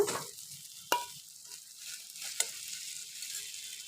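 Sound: boiled potatoes added and stirred in hot frying pan

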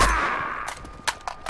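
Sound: gunshots in a video game

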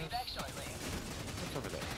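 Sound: gunfire in the video game Helldivers 2

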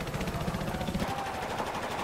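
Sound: gunfire shooting through a wall in Battlefield 4 video game

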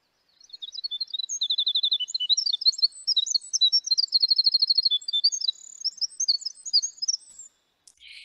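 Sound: recorded bird song, burst of notes

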